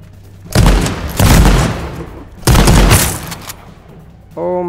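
Heavy gunfire from the H1Z1 King of the Kill battle royale game, two loud sustained bursts of booming shots in quick succession, ending with a brief tonal game sound.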